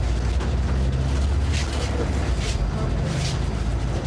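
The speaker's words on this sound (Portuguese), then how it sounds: "o barulho do ar só ia piorar o combo do barulho do motor com as péssimas condições de conservação da carcaça do ônibus" Inside an old, poorly maintained bus, the engine rumbles low and constant under an air conditioner's steady roar, a loud enclosed drone with faint bursts of rattle throughout.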